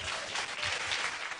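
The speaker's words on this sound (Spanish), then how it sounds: "Denle un aplauso al Señor." A church congregation claps in a dense, even burst of applause that stays steady and moderately loud, with a fairly distant, roomy sound and no voices over it.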